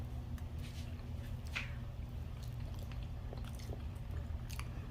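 Someone chewing deviled eggs close up, with soft, wet bites and a few faint crunchy clicks over a steady low room hum, no talking.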